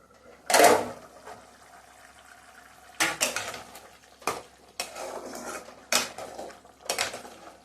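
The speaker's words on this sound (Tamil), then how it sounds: "மூடியை திறந்துட்டு பார்க்கலாம்." A metal lid comes off a pot of simmering egg gravy with one loud clank, followed by several lighter clinks and scrapes of utensils against the pot over a faint bubbling background.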